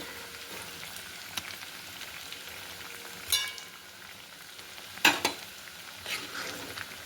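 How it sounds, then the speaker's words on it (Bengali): Vegetables sizzle and fry in a pan while a Bengali dish of katla fish head with bottle gourd cooks, a steady low crackle with a few louder stirring clatters and bursts. "এখন সবজিটা জাল হচ্ছে।"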